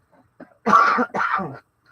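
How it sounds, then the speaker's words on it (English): A person coughs twice in quick succession, harsh and close, after a couple of faint small noises. "I got a cough."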